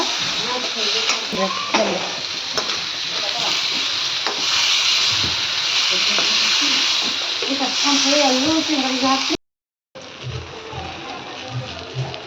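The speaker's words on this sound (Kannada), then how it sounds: "ಈ ಥರ ಹುರಿದೆವು ಅಂದ್ರೆ ಟೊಮೆಟೊ ಮೆಣಸಿನ್ಕಾಯಿ ಒಮ್ಮೆ ಫ್ರೈ ಆಯ್ತವ" Tomatoes and green chillies fry in a pan for a tomato chutney, a steady sizzle with scraping stirs running beneath a person talking, interrupted by a brief moment of silence near the end.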